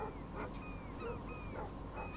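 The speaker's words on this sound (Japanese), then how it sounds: "あ、犬の声が。" A dog in the Life is Strange video game gives a few short yips and whimpering barks at a moderate distance, spread across a steady outdoor game ambience, with no one talking.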